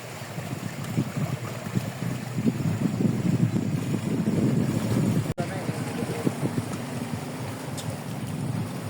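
Strong wind buffets the microphone outdoors, a steady loud roar with gusty low rumble for nearly nine seconds, a brief sharp knock midway, with voices faintly underneath.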